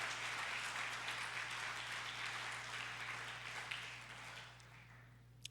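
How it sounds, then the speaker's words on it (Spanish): A church congregation applauds during a family service in a sustained, even clatter of many hands that thins toward the end, heard fairly faintly over a low electrical hum. "Dale fuerte el aplauso al Señor."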